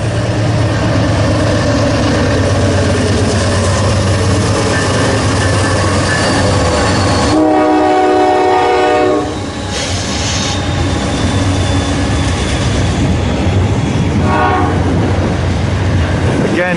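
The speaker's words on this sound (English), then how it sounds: "beautiful stack train going by" A long eastbound freight stack train rumbles past close by in Elkhart, Indiana, with steady rolling wheel noise and clatter, a horn-like tone sounding partway through.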